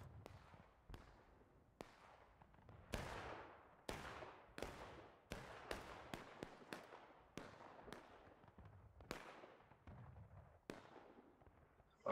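Repeated booming cannon shots from a Civil War battle in the video game War of Rights, a dozen or so sharp blasts at irregular intervals, some near and some distant, with decaying echoes.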